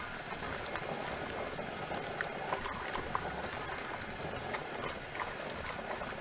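Mushrooms squished around by hand in a bowl of water make a continuous wet churning and splashing with small bubbly pops, steady and close, with no talk.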